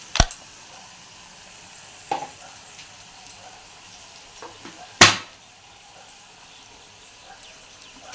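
Tomato frying with salt in a pan for a rohu fish curry gives a quiet, low sizzle, broken by a few sharp clinks and scrapes from a utensil, with no talking.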